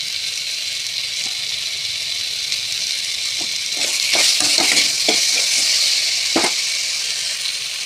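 Green chillies, ginger paste and salt being stirred in a frying pan: steady hiss of frying with a cluster of spatula scrapes and clicks in the middle and one more near the end.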